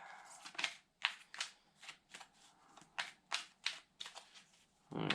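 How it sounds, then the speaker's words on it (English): Tarot cards shuffled by hand make a quick series of soft, crisp riffling bursts in an uneven rhythm, close and quiet, without speech. "one more shuffle here"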